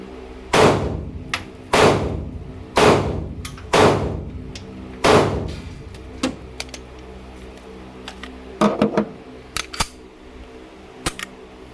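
A Taurus G3 Toro pistol fires five sharp, loud shots about a second apart, followed by quieter metallic clicks and clatter, with no talk.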